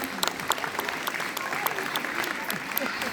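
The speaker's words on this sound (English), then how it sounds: "Let's give our second graders, Ms. Davis and Ms. Getwood's class, another round of applause for a job well done." Audience applause for a second-grade class after a school reader's theatre performance, a steady roomful of clapping with sharp individual claps standing out, a voice or two in the crowd mixed in.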